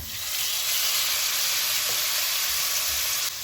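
Tomatoes hit sautéing onions in a pan for a gram flour kurma, and a loud, steady sizzling hiss fills the space without a break, then eases slightly at the very end.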